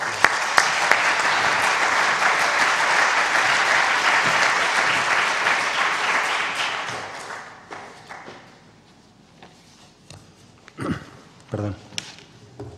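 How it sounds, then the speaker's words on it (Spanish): A literary event audience gives a guest a welcoming round of applause, dense and steady for about seven seconds before fading out, followed by scattered taps, shuffling and a few words from a speaker. "que le recibiéramos a Juan con un aplauso de bienvenida"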